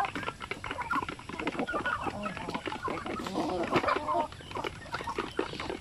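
Several chickens cluck and chatter close by in irregular bursts, with scattered background noise around them.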